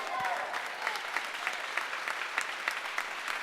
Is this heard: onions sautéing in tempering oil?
no